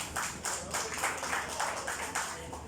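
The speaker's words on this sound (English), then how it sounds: "A big round of applause, please." An audience at a meet-and-greet for Miss World Philippines 2019 candidate Glyssa Perez claps in a quick, regular rhythm, faint and slightly distant, with no talking.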